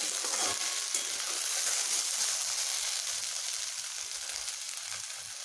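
Okra and potato pieces frying in a pan give off a steady, close hiss and crackle with soft stirring scrapes, fading slightly toward the end, and no one talks.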